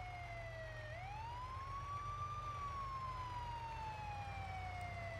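A pink ambulance in a farm transporting video game sounds its electronic siren, a steady loud wail that sweeps up and then slowly falls, heard alone without talk.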